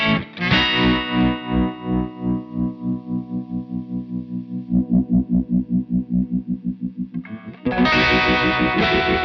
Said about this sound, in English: let's change the wave shape and get more of like a tremolo sound